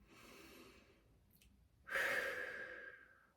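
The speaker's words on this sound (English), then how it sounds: "you just take a nice deep breath" A slow, deep breath drawn in and then let out in a long audible sigh during a calming energy-clearing exercise, close and soft with no talking.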